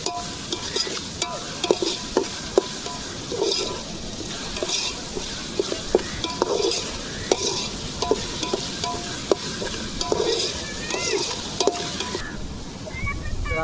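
Onion with a little salt fries and sizzles in a pan at an outdoor beachside chicken biryani cookout, stirred with repeated scraping strokes over a continuous hiss.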